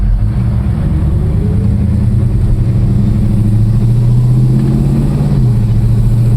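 A 1969 Plymouth GTX with a 727 automatic drives along, its V8 droning loudly and steadily up close, with the engine pitch rising and then dropping as it shifts gears near the end.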